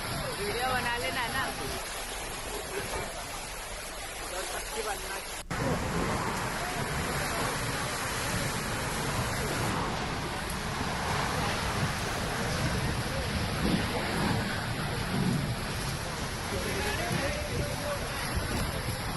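Heavy rain with strong, gusting wind during a storm that wrecked a market area, a continuous dense roar of rain and wind that runs steadily for the whole stretch, with an abrupt shift in texture a few seconds in.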